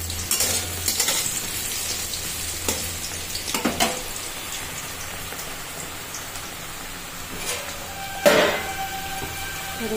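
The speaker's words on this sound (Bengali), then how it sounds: "এদিকে নিম বেগুনটা ভেজে নিচ্ছি, এতেই নিম পাতা দিয়ে দেবো এই তেলে।" Neem brinjal (eggplant) pieces fry in hot oil, giving a steady crackling sizzle with scattered sharper pops and occasional stirring clatter, close and moderately loud throughout.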